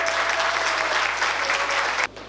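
An audience applauds fashion show models at an anniversary celebration of a residential home, steady dense clapping filling the room before cutting off abruptly near the end.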